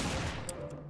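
Gunfire in the video game Garry's Mod, a quick burst of rapid shots ringing out at moderate loudness over a busy background.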